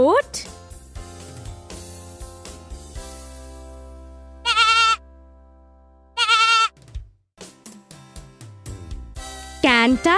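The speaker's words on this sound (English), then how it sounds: "Goat." Goat bleating in short, loud wavering bursts that stand apart from one another over a busy musical background.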